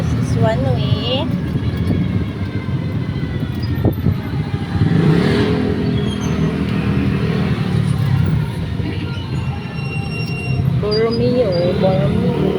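Congested one-way street traffic with car engines revving and rolling past close by, a continuous busy road rumble under casual talk from people in a vehicle.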